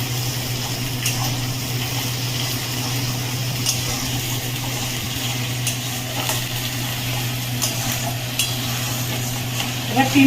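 Chicken is stir-fried with onion paste and garam masala for a Bengali kosha, giving a continuous low sizzle with occasional spatula scrapes and taps over a steady background hum. Nobody speaks.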